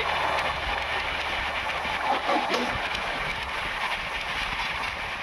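The Shantiniketan Express races along the rails at about 128 km/h, a steady loud roar and rattle of wheels with no pauses.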